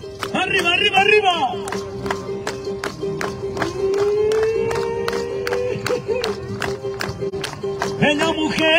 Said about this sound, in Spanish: ¡Arriba las palmas!